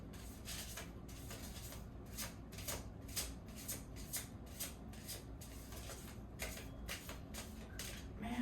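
A deck of big cards being shuffled, with a series of crisp riffling bursts at an uneven pace, close and fairly quiet.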